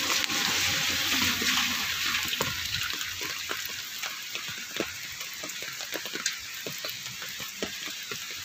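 Steady rain falling outdoors near someone grilling squid, heard as a dense hiss with soft scattered patters and drips, fairly close and loud throughout.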